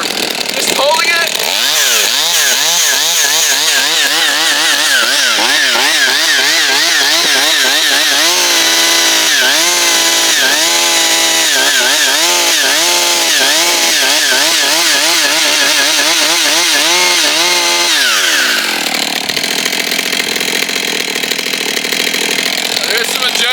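A Holzfforma 35.2cc G111 gas chainsaw, a Stihl MS200T-compatible model, runs close and loud, its engine revving up and down in rising and falling whines before dropping back toward idle.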